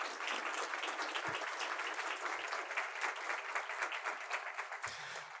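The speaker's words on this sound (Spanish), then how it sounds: "Un aplauso, por favor, para ellos." Steady, even applause from an audience at a Central Bank ceremony honouring book authors, continuous and moderately distant throughout.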